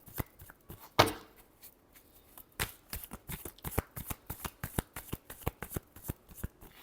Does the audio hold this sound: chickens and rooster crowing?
no